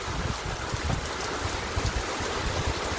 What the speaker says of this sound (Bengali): বাইরে বৃষ্টি পড়ছে, এত রোদেতে বুঝতেই পারিনি